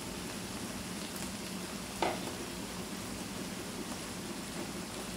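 Chopped, washed tomatoes tipped into onions frying in a pan for a simple bhindi dish, a steady soft sizzle throughout with one brief sharper splash of hissing as they land, no talking.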